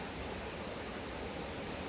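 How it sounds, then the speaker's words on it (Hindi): Small waterfall flowing on a trek to Sipty waterfall, a dense, steady roar of rushing water filling the whole clip, close and loud with no voices. "ये एक छोटा सा झरना यहां पे है"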